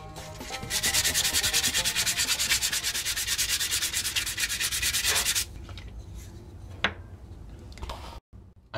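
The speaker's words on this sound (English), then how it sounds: "And always some hand sanding." Rapid rhythmic rasping of sandpaper rubbed back and forth by hand on a wooden duck decoy, close and steady for several seconds, then stopping with a few faint knocks.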